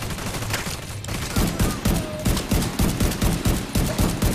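Rapid automatic gunfire in The Division 2 shooter game, loud bursts of shots in a fast, uneven rhythm that repeat through the whole stretch.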